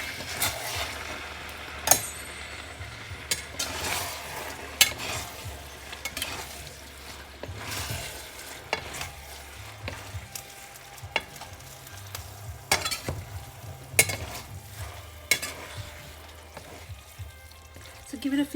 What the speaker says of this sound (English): So give it a few mix till all the noodles is mixed together with the sauce